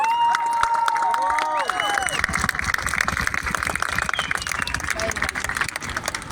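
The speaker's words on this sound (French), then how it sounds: "je voudrais qu'on l'applaudisse très très fort" A crowd gathered at a rally outside the AFP offices in France cheers and claps in sustained, loud applause, with shouts and whistles rising over the clatter; dense and continuous throughout, with no single voice standing out.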